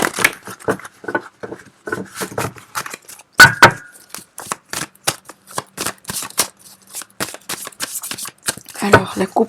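A tarot deck is shuffled and cut, giving a long, fast run of crisp card riffles and slaps, close and fairly loud, with brief pauses between bursts.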